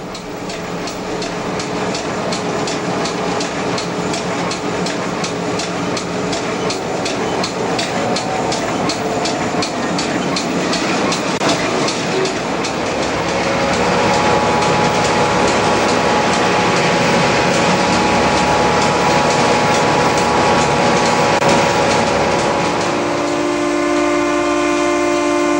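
A CN TerraTransport freight train, Extra 944 East, rolls across the long Exploits River railway bridge at Bishop's Falls, Newfoundland, with a steady loud rumble and clatter of wheels, and tonal horn blasts sounding in the second half.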